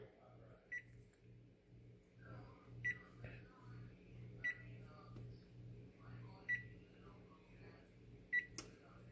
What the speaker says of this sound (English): next we preheat our oven to 350